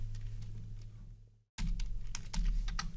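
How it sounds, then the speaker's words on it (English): Quick, light keystrokes on a computer keyboard at a trading desk, scattered clicks heard close and fairly quiet, with a brief gap of silence midway before the typing resumes. "Did I type that wrong?"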